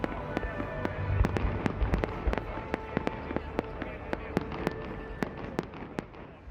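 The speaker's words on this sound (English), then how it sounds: "was set off in dramatic fashion by a blaze of fireworks." Fireworks at the Dubai World Cup closing ceremony burst in a rapid irregular series of sharp, distant bangs, about a dozen and a half cracks spread over several seconds above a low crowd murmur.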